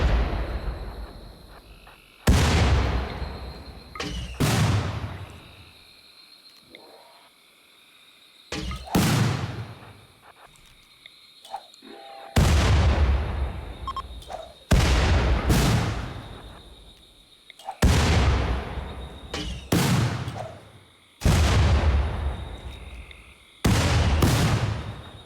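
Gunfire and frag grenade explosions in a video game come as a series of loud, sharp blasts, roughly ten bursts spaced a second or two apart with quieter gaps and faint ambient sound between them.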